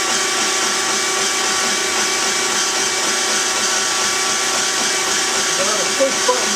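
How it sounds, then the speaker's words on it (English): The hydraulic pump of a Conway press runs with a steady, close, whining motor hum. It holds an even level from start to end, with a faint knock near the finish. "Okay, the pump is running."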